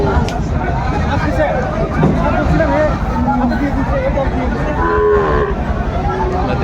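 Sahiwal cross bull cattle at a busy cattle market in Dinajpur, with several drawn-out moos rising over constant loud crowd chatter and bargaining voices, the calls fairly near and overlapping the talk.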